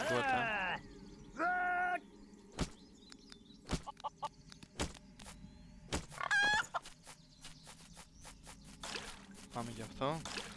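Chicken clucking and a rooster-like call from the video game Craft the World, heard as short bursts among game effects and clicks, with scattered sounds and some speech-like activity.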